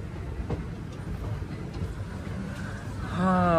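The CirCar Express 17644, on its Vijayawada to Puducherry run, rumbles along the tracks in a steady, muffled roar heard from inside, swelling louder with a rising tonal whine at the end.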